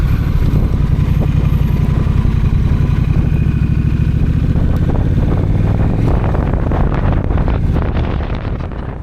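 A Honda Rebel 1100 motorcycle cruises with a loud, continuous engine drone heavily buffeted by wind rushing over the microphone, the rumble shifting slightly and easing off toward the end.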